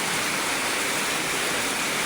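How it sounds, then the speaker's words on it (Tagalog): Heavy rain pours in a dense, constant roar beside a pig pen, loud and unbroken, with no voices. "kaya sobrang lakas ng ulan guys"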